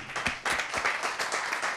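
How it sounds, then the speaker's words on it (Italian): A small audience in Italy claps for Mario, a brief patter of hand claps with a few sharper individual claps, moderately near and without talk. "un applauso per Marione"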